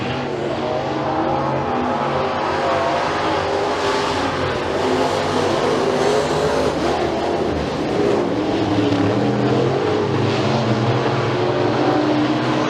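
Race cars roar around a dirt oval at McKean County Raceway during heat races, a loud continuous engine drone that swells and fades as cars pass, with no talk over it.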